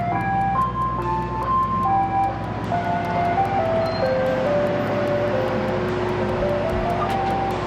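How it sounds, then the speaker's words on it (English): An ice cream truck plays its melodic jingle in the distance, a steady sequence of tinkling tones carried faintly over a low background rumble, with no talking. "I hear the ice cream truck. He's way over there."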